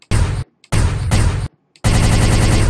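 Automatic gunfire in a video game aimed at a helicopter: three loud, close bursts of rapid shots, the first two short and separated by brief silences, the last a longer sustained burst.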